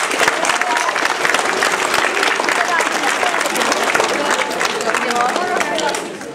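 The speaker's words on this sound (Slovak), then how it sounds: "teraz by som prosila naozaj všetkých žiakov jeden veľký potlesk pre deviatakov" Big applause from a gathering of schoolchildren for the departing ninth graders, dense and continuous clapping filling the room at full volume before easing slightly at the end, with a murmur of voices mixed in.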